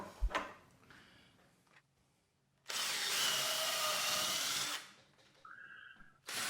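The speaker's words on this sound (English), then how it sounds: "Now you can drill the holes for the bolts" A power drill bores bolt holes in a wooden generator cover frame: one loud, close whirring run of about two seconds, with light knocks and handling clatter before and after.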